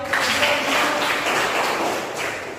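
Students in a classroom clap together briefly, a moderate and fairly even burst of applause with a faint voice mixed in.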